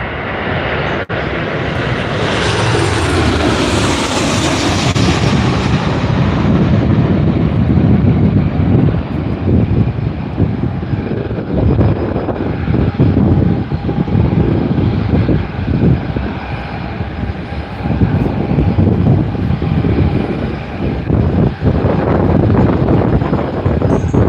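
An Emirates Airbus A350 jet departs Newcastle Airport, its engines building to a loud, sustained roar with wind buffeting the microphone, the broad rumble holding steady throughout.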